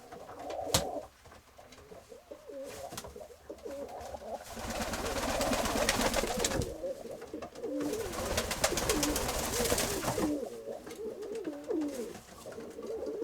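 Pigeons coo repeatedly in rolling, warbling phrases, close by, with shuffling and other faint birds in the background.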